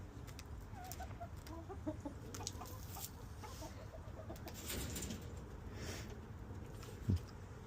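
Backyard chickens cluck softly and steadily while being fed, faint scattered calls over a low outdoor rumble, with one brief louder knock near the end.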